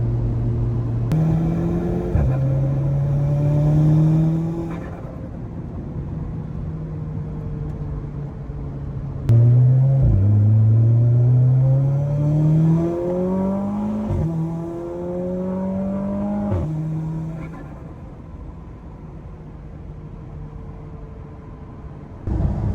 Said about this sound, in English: Let's listen to that 4-cylinder purr.